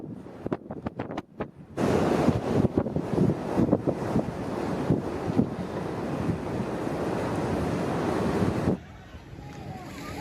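Storm waves and wind at sea during a fierce tropical storm, loud rushing surf and heavy wind buffeting the microphone, after a short stretch of broken, gusty noise at the start and easing near the end.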